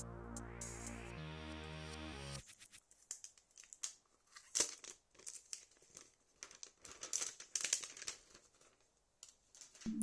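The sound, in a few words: removing the plastic cover from a Samsung Galaxy M12 phone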